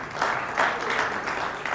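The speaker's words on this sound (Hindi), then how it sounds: "खूबसूरत हमारी मेघा जी के जोरदार तालियां।" Loud, steady audience applause at a direct selling business award ceremony, a brief continuous wash of many hands clapping with no talking over it.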